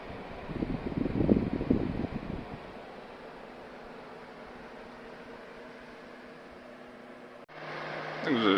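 A Titan TTC-SC21 roof window fan in a camper blows with a steady whooshing hiss, close and continuous, after some handling noise at the start and before a brief click and louder whir at the end.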